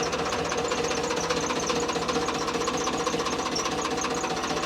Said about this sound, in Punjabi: ਖੜਕਦਾ ਕਿ ਨਹੀਂ ਬਈ ਟਰੈਕਟਰ ਦੱਸੋ ਹੁਣ